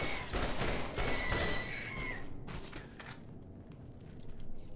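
Gunfire in the video game Borderlands as creatures are killed, rapid bursts of shots crackling in clusters, fairly faint and uneven, with quieter gaps between volleys.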